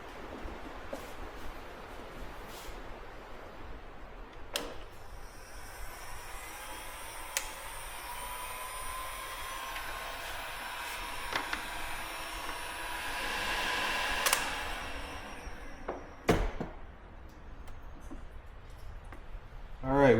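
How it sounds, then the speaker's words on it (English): A heat gun blows a steady, close airy hiss, warming solder-filled wire connectors during a solar panel install on a truck camper, running continuously for most of the stretch before cutting off near the end. "you just take a heat gun and that should connect everything together"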